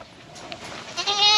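Goats bleat nearby on a farm, a short, rising bleat building toward the end over a quiet background.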